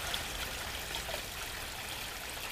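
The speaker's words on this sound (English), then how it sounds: "what an impressive water feature" A decorative water feature at a plant shop in San Marcos, California trickles and splashes steadily, a soft continuous flowing wash heard close by and alone, without talk.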